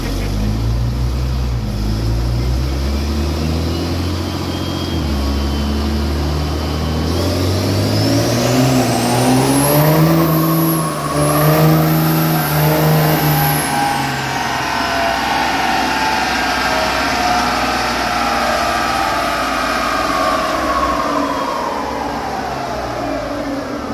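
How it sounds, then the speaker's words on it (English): A tuned Cummins diesel Ram truck revs hard on a dyno, engine roar climbing steadily through the gears with a high whine peaking midway, then easing back down, loud and continuous with no talk. "Now here we have a Cummins Ram that's tuned up a bit"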